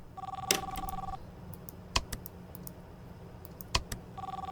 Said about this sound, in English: Getting a phone call.